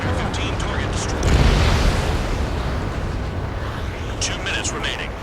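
An in-game explosion as a target is destroyed in the Ace Combat 7 pipeline destruction mission, a loud rumbling boom swelling over continuous jet engine roar, with radio chatter nearby.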